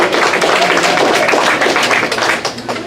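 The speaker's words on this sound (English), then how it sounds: "we can clap for Tyler too" Audience clapping at a political event honoring a new staff member, a dense, steady applause filling the clip at close range without pause before tapering slightly at the end.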